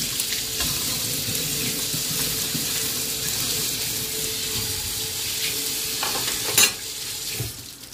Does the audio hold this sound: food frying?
yes